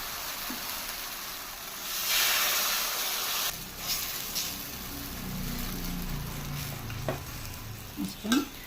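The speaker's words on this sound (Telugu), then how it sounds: "ఇంకో దోశ పోస్తున్నాను." Jaggery dosa batter hisses and sizzles on a hot pan, a broad steady frying noise close by, with soft scraping and a few light knocks toward the end.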